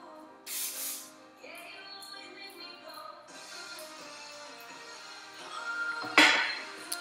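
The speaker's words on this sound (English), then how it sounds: "So I'm gonna go through and spray a little bit of this spray wax." Spray wax misted onto curly hair in a few short hissing bursts, close to the microphone, with a louder spray near the end and quiet handling sounds in between.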